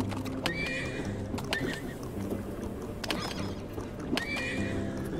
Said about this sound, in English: I feel like I am abusing this horse.